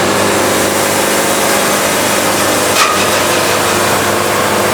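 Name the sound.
sawmill blade cutting log and hitting embedded metal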